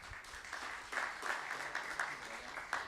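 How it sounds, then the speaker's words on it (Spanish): Applause from a panel audience at a university open-data and city-innovation event, steady broadband clapping throughout with a few louder bursts, no talking over it. "Recibamos con un aplauso a Carlos Pared Vidal"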